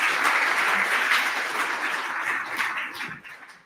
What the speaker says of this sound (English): So big round of applause for Jen.